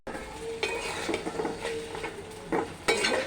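A spoon stirs and sautés spice paste in a frying pan for a Bengali fish and potato curry, with a soft sizzle under irregular scraping strokes and a few sharper clinks against the pan.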